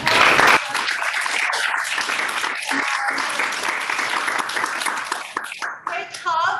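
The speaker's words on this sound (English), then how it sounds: "Let's have a round of applause." Sustained audience applause at the close of a women in science and health lecture, a dense steady wash of many hands clapping at close range, with voices talking underneath.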